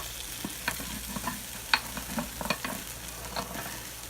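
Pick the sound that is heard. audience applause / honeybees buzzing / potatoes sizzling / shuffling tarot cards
potatoes sizzling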